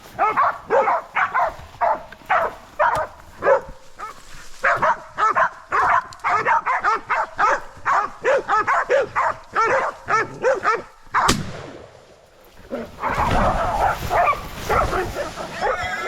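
Hunting dogs bark rapidly and repeatedly nearby in a long frantic burst, then pause briefly before a noisy scuffle with a wild sow, with yips and squeals.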